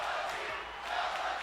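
Arena crowd in the WWE 2K20 wrestling game during an NXT championship match, a dense steady roar of cheering and shouting with a slight swell near the end.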